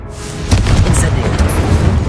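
A Confringo blasting spell explodes in the game Hogwarts Legacy with a loud, sustained booming rumble that starts after a brief quieter moment and stays heavy to the end, with a voice calling out over it.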